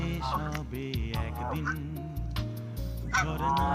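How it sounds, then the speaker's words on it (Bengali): Ducks and other waterfowl honk and quack repeatedly at close range in Small Heath Park, Birmingham, a loud, busy chorus of calls with overlapping voices. "হাঁস।"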